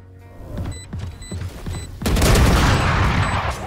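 Gunfire in a multiplayer shooter video game sounds as a few separate thumping shots, then a dense, loud burst of rapid fire filling the second half, with faint periodic beeps over it.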